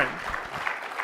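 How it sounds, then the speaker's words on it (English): Brief, fading applause from a crowd at a wild game feed dinner, a soft wash of clapping that tails off quickly. "can we clap and hoot and holler so they can hear us to thank them for their work?"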